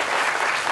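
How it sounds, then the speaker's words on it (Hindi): A short burst of steady clapping from an audience at a film masterclass, dense and even throughout. "मैं ताली आपकी बात के लिए बजा दी"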